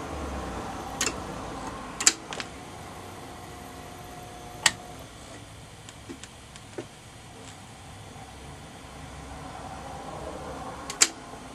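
Faint, sparse mechanical ticks from the timer of a Standard Business Machines model 160 Magnescriber Deluxe wire recorder, a few sharp clicks spaced irregularly over a quiet motor hum.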